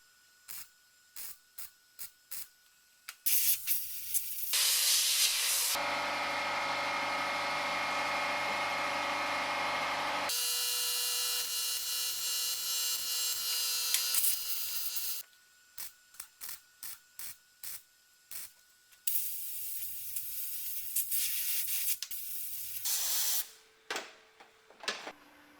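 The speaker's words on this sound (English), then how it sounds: "I'm so focused on the welding and making sure I get it right" Welding on the rusty windscreen frame of a Mercedes, with long steady bursts of harsh crackling broken by short sharp clicks and pauses, close and loud with no talking.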